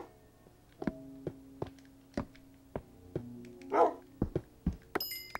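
Tamed dogs bark in Minecraft (Xbox 360 edition): a string of short, sharp yips and barks at irregular intervals over soft background game music, fairly close, with no talking.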